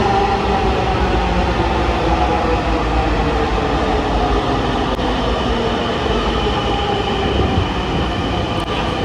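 A Dhaka Metro rail train runs steadily, its continuous loud rumble and rail noise filling the whole stretch without letup.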